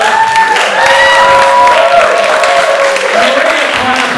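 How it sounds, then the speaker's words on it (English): Audience applause and cheering at a live show, crowd clapping loud and close beneath excited voices and tonal whoops, sustained throughout. "Another round of applause everybody for Under the Golden Gate."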